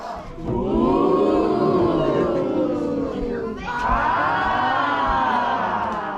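A group of people cheers loudly during a practice round, two long swelling bursts of whooping and yelling voices, with a brief dip between them.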